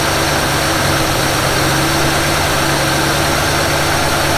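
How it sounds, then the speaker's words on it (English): Engine of a 1948 Willys Jeep idling rough during a tune-up, a loud, steady, close rumble with a throbbing low vibration and no talk over it. "Okay, it's running. You can tell it's running pretty rough."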